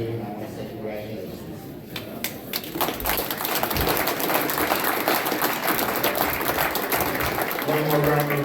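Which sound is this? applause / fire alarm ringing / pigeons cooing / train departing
applause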